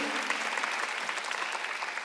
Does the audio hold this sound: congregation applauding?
yes